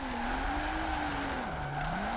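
A car drifts without handbrake along a mountain road in Forza Horizon 4, the engine droning steadily at high revs with a continuous tire squeal that dips and rises through the slide.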